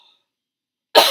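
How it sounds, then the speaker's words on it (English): A single sharp cough bursts out close to the microphone after a near-silent pause, brief and loud. "let me take a sip so I don't keep coughing on you"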